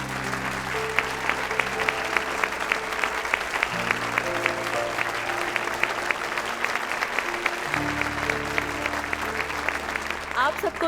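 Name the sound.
audience applause welcoming speaker to stage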